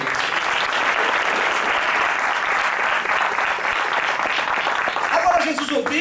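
A church congregation applauds during an evangelical sermon, sustained loud clapping from many hands with voices mixed in, continuing for several seconds.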